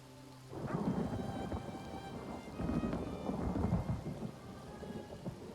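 A video game thunderstorm builds from a quiet start into steady rain with low, rolling thunder rumbles that swell and fade, fairly close, and no voices.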